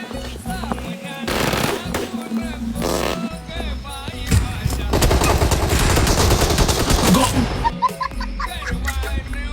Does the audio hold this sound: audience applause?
no